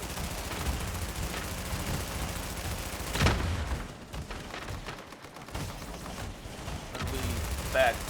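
Gunfire in The Division, bursts of shots in a chaotic firefight with a loud impact near the middle, heard under excited shouting from players.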